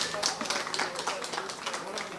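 Crowd applause for a mayor at a local gathering, a steady patter of many hands clapping at moderate distance, with voices mixed in.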